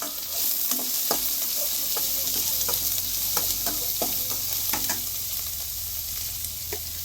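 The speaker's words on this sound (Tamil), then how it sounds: "தாளிக்க கருவேப்பிலை சேர்த்துக்கலாம்" Steady loud sizzling of curry leaves frying in hot oil, with crackling pops and occasional stirring scrapes throughout, no talking.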